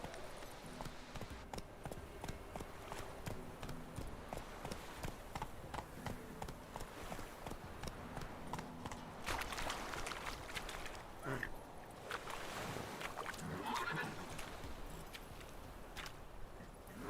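Roach the horse gallops in The Witcher 3, with rapid, steady hoofbeats clopping throughout over a continuous game soundscape, louder and busier in the second half.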